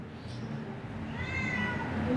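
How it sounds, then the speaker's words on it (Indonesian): Cat meowing indoors during a religious talk, one drawn-out rising and falling meow near the end, moderately close over a low background hum. "Wah, ada kucing ikut ngaji"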